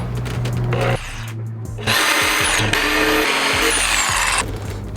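A jigsaw cutting wood for a chicken coop build, loud buzzing bursts of cutting broken by a short pause, close and alone without talk.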